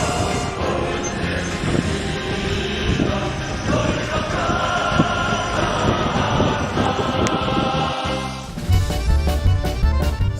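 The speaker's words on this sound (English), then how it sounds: "we're leaving on a one-car train to go to the North Korean camps" A one-car train in North Korea rumbles and rattles steadily along the tracks with clattering wheels and wind noise, shifting to a bumpier clunking near the end.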